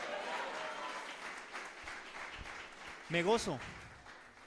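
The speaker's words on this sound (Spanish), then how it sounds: "denle un aplauso al Señor en esta mañana" A church congregation applauds during a Spanish-language worship service, steady clapping throughout with a voice breaking in near the end.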